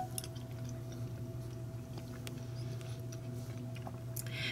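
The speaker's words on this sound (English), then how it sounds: "let me taste the potatoes by themselves" Someone chews potatoes cooked in an Instant Pot with pork belly, making soft, moist squishing bites close to the mic over a quiet steady hum, with a few faint clicks.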